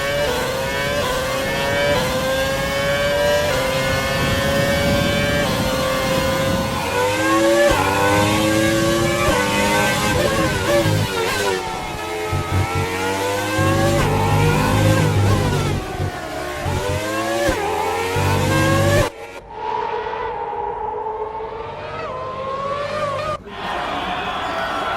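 A V8 Renault Formula 1 engine in the F1 2020 racing game screams through rising and falling revs as gears shift, loud and close for a long stretch before cutting to a quieter engine drone.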